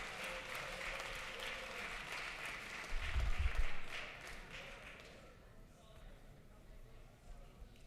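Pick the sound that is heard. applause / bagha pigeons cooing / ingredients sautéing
applause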